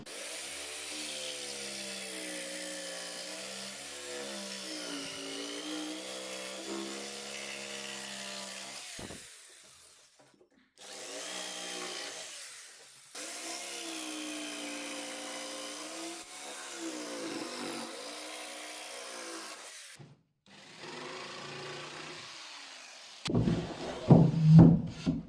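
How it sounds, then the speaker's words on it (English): A jigsaw cuts through timber in several long bursts: a buzzing, rasping saw with a pulsing tone that stops and restarts, ending with clattering handling noise. "Cut it out with jigsaw and should slot straight in."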